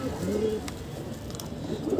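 A fancy female pigeon gives a brief soft coo, close and quiet, over low background rumble.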